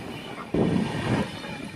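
Sikkim Mahananda Express (15483) running on rails between Alipurduar and Siliguri: a low, steady rolling rumble with a brief louder surge in the middle, fairly close and without voices.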